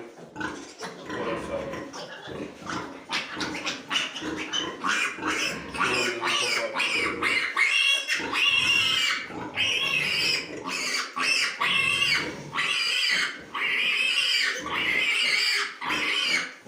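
Several pigs, sows being vaccinated, grunt and squeal continuously in a noisy chorus, close and fairly loud, with no talking.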